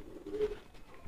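A pigeon gives a single low, soft coo close by, brief and muffled against quiet background noise.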